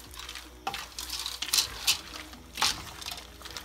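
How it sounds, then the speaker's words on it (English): A spoon stirs vegetables and a 24-ounce bag of peas in a soup pot, giving scattered scrapes and bright clinks against the metal at an uneven pace. "Stir that around."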